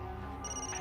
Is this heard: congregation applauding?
no